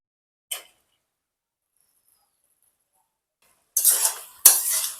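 A spatula stirs cabbage with chopped coriander in a pan, heard as one sharp clink and then, after a silent gap, two short, close metallic scraping clatters.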